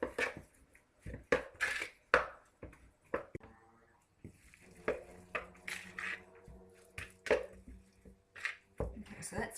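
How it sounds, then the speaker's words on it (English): Sushi rice seasoned with rice vinegar, salt and sugar is stirred vigorously with a utensil, making irregular knocks and scrapes against the bowl, some sharp and some soft, with short pauses between strokes. "we need to stir that quite vigorously to get all of the salt and sugar distributed evenly through the rice"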